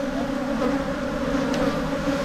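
Honeybees buzz densely and continuously at an opened hive, a close, steady, droning hum from many bees with no voices.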